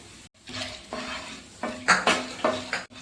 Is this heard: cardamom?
yes